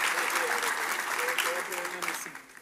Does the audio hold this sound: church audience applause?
yes